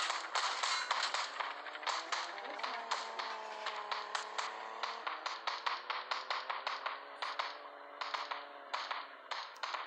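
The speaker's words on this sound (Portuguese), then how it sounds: "Tô levando tiro" Gunfire in a driving and shooting video game, a long run of sharp repeated shots in quick uneven bursts, loud and close over a steady engine drone.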